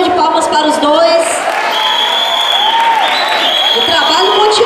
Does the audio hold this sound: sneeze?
no